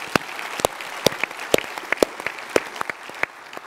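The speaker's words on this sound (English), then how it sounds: "That must be worth a round of applause for Francis." Sparse, scattered clapping from a small conference audience at a pensions event: a dozen or so separate, crisp hand claps spread unevenly over a few seconds rather than a full ovation.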